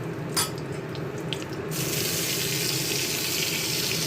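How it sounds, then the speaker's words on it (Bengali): Dried red chillies and nigella seeds hit hot oil in a pan, a loud, steady hiss and crackle that surges up partway through and continues close by without any talk. "তেল দিয়ে ফোড়ন দেবো, শুকনো লঙ্কা আর কালো জিরে"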